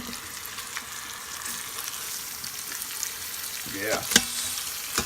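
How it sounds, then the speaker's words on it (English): Pork browning in an Instant Pot in a small RV kitchen gives a steady, moderate sizzle throughout, with a few clattering touches near the end as the meat is turned; one brief spoken word. "Just a light browning on each side. Kind of helps sear it, sealing the moisture in, keeping the flavor inside."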